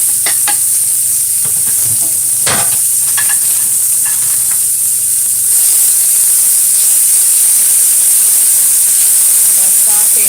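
Garlic and onion sauteing in a small pot, a loud continuous sizzling hiss with a few sharp clinks and scrapes of stirring in the first seconds.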